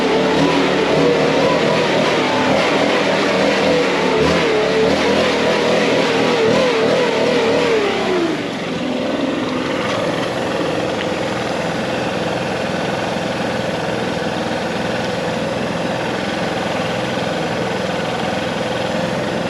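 A blower engine runs steadily and loud throughout while its throttle is worked, the pitch dropping and easing off partway through before holding at a lower, continuous drone.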